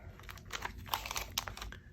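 A 1986 Fleer baseball card rack pack being unwrapped, with continuous close crinkling and crackling of plastic wrapper and a few sharper tearing snaps, busy and fairly loud throughout, no talking.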